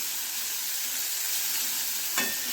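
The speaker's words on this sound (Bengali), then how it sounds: "এবার মিডিয়াম ফ্লেমে নাড়াচাড়া করে ভেজে নেব" Bitter gourd frying in a pan on a medium flame, a continuous bright sizzle close by, with a single stir or scrape near the end, no voices.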